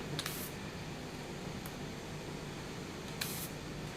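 A Gundam Marker airbrush spraying ink in quick, faint hissing bursts, two short puffs near the start, another brief one in the middle and one more near the end, over quiet background hiss.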